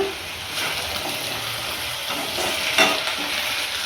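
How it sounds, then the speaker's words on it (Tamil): Drumstick leaves sauté in a hot pan with a steady sizzle, a brief louder hiss near the end as they are stirred; no one speaks. "இந்த தண்ணிக்கு வத்துற வரைக்கும் நம்ம கீரையை நல்லா வதக்கிக்கிறோன்னா"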